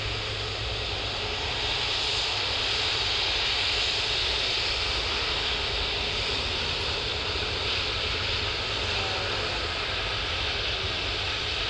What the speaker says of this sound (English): it's going to make its way to the end of the runway, do a UE, and then head down to the factory.